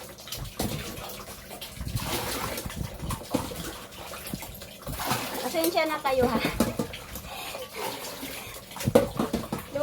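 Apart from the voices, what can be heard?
water being transferred and filling a bucket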